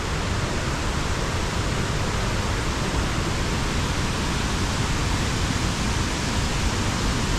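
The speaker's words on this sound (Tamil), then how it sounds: "இந்த வாட்டர் ஃப்ளோ" Heavy river water at Hogenakkal roars in a dense, constant broadband rush, loud and unbroken throughout, with no voices.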